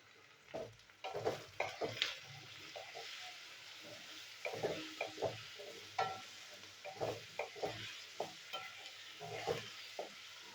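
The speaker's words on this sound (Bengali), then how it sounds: "আলুটাও একটু ভেজে নেবো একসাথে।" Potatoes frying together with onion in a pan, with salt and turmeric added, giving soft crackling sizzles and repeated scraping stirs in uneven bursts, close and moderately loud, with no talking.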